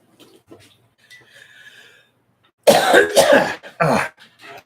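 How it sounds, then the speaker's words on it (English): A person coughs hard several times in a close, loud burst of hacking, after a quieter stretch of faint background sounds, with a short pause before a final cough. "Now I can blame the COVID if I'm coughing."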